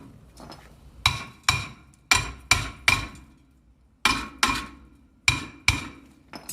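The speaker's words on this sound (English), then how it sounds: "give it a little whack to the rotor" Hammer striking a car brake rotor being removed for replacement, about a dozen sharp metallic whacks that ring briefly, falling in quick pairs and short bursts with pauses between, close and loud; no voices.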